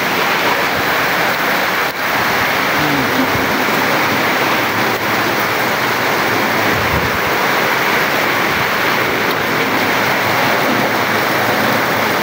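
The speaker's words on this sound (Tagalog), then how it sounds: "guys, ang lakas ng ulan, no?" Heavy rain pours down in Biliran, a dense, loud and unbroken roar of falling water that holds steady throughout.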